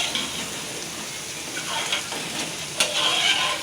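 Potato curry bubbling and sizzling in a pot on the stove, a steady frying hiss with light stirring scrapes and a sharper clink near the end, close and fairly loud with no talk.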